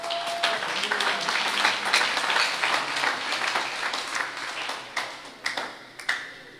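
A church congregation breaks into loud, sustained applause during a sermon, many hands clapping at once in a reverberant hall, thinning out toward the end into a few scattered, sharper claps.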